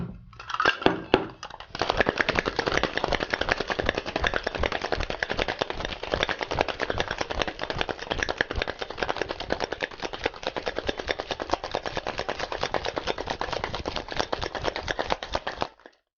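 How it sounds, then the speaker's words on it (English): A cocktail shaker holding a single piece of ice, shaken hard for a Southside cocktail, gives a fast, steady, loud rattle of ice knocking against metal that runs without a break for about fourteen seconds after a short pause. "now we're just gonna give it a good shake with a single nice piece of ice"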